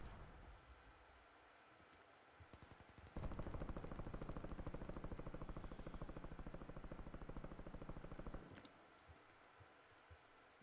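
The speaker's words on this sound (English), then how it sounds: "A lot of shooting, but not a lot of dying going on." Rapid automatic gunfire in a video game rattles in a long continuous burst of several seconds, sitting between quieter stretches with scattered shots and ambient game noise.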